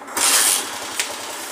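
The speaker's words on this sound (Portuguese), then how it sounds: "É uma moto que toca, pega, ó, de primeira, ó." A 2008 Honda CG Titan 125 motorcycle engine catches on the first try with a brief loud burst, then settles into a steady low idle, heard alone without talk.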